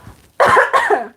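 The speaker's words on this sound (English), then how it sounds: "I want to cough, but I want to cough in your ear" An adult's two harsh coughs come in quick succession, loud and close to the microphone, after a moment of quiet.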